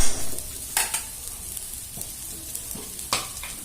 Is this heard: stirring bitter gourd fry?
yes